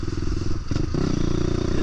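A Lexmoto LXR 125 motorcycle engine hums steadily at close range while riding in the rain, with a brief clattering dip partway through before the drone continues.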